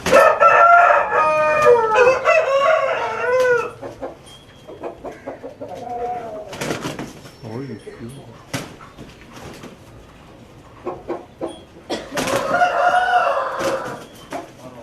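Fighting roosters kept for traditional Tamil cockfighting crow loudly and repeatedly, with several long calls near the start and again toward the end, plus a few scattered clucks in between.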